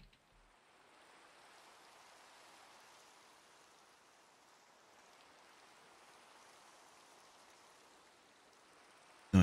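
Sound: rain falling in video game Minecraft

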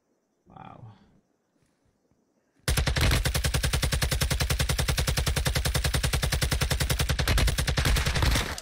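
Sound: rapid gunfire shots in a video game

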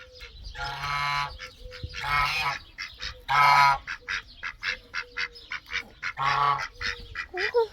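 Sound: goose honking at a farm

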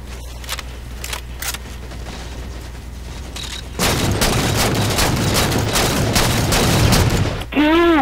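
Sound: assault rifle gunfire in the video game Halo 4

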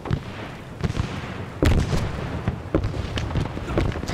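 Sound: phosphorus grenade explosion in a video game

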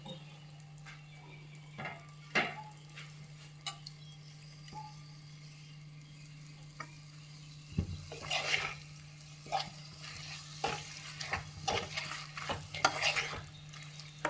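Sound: tomatoes frying and being stirred for mutton biryani

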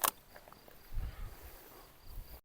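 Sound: crickets chirping outdoors

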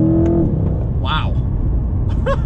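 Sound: Chevrolet C8 Corvette accelerating in launch control

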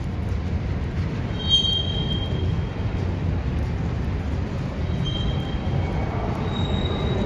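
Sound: train engine passing on railroad track

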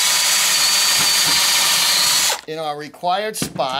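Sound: drill pre-drilling a hole for a nail

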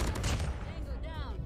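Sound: AK-47 Mythic gunfire, from video game Call of Duty Mobile

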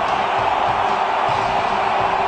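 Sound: cricket stadium crowd cheering after a six

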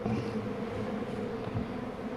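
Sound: honey bees buzzing

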